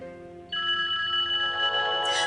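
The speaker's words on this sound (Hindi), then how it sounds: "देखो तैमूर फोन कर रहा है।" A telephone rings indoors in a TV drama scene, a steady electronic ring with bright tones that starts abruptly about half a second in and continues loud and close to the end.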